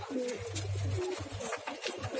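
Male racing pigeons being prepared for a tournament coo in low, throaty pulses, a steady near murmur throughout with soft rustling and no talk.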